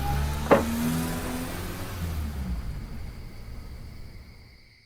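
A car engine and road noise heard from inside, a sharp click near the start, then a steady hum that slowly fades, with no talking.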